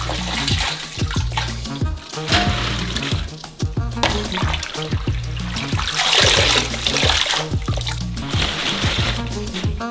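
Cold water drains off sliced potatoes into a saucepan in a kitchen, a loud continuous pouring and splashing with gurgles and clatter of slices, running steadily for several seconds.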